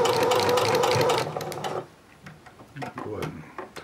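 A home sewing machine runs a line of understitching along a seam on a pair of sewn shorts, a steady fast motor whir for almost two seconds before it stops, followed by faint handling clicks and rustles of fabric.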